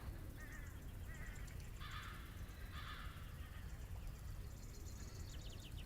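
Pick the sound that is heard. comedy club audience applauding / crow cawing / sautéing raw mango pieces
crow cawing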